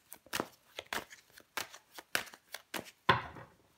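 Tarot cards being shuffled and laid down, a series of short papery riffles and slaps in an irregular rhythm, close and fairly quiet, ending with a slightly louder thump-like card placement.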